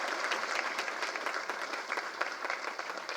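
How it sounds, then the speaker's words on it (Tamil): Audience at a Tamil film trailer launch event clapping steadily, a dense, even burst of applause filling the hall with no voices over it. "நல்லா கைத்தட்டு கொடுங்க அவருக்கு"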